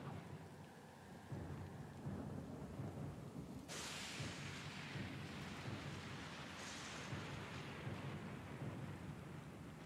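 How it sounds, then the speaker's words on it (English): Thunderstorm in the fantasy role-playing game Pillars of Eternity 2: Deadfire: steady rain and wind noise with a heavy rolling thunder crash that bursts in partway through, loud and sustained, then a second swell near the end. "The storm is pretty loud."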